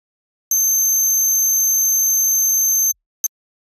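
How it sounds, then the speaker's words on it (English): A harsh, high-pitched synth layer holds a steady piercing tone for about two and a half seconds with a faint low hum beneath, then cuts off and is followed by one brief click. "I'm not going to play this particular thing because it's a really high-pitched sound."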